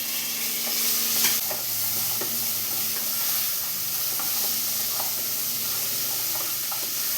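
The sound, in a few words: green beans being stir-fried and mixed in pan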